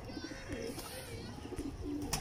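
Pigeons in a breeding loft give soft, low coos, faint and close, in a short quiet stretch.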